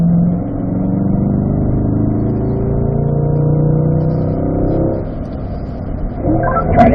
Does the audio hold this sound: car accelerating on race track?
yes